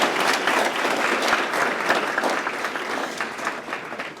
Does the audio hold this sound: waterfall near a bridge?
no